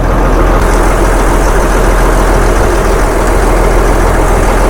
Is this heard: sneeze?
no